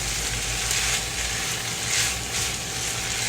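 Peppers and onions frying in a pan, a loud, steady close-up sizzle with soft crackle and no voices.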